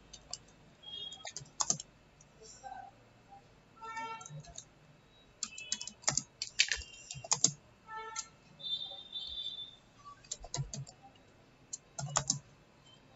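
Typing on a computer keyboard while filling in a resume, with irregular bursts of close key clicks and short pauses throughout, no talking.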